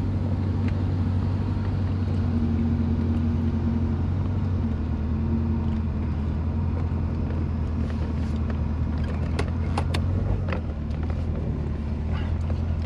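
A 1990 Chevrolet Corvette in good running condition rumbles at low revs while reversing, with a steady, deep engine drone close by and some wind buffeting over the microphone.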